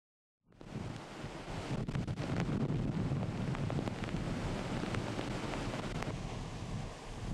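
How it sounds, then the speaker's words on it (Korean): Typhoon-driven waves crash over a coastal breakwater on Jeju amid strong wind, a dense, continuous roar of surf and gusting air that stays loud and steady throughout, with no voices. "높이의 위력적인 파도가 쉴 새 없이 방파제를 넘고"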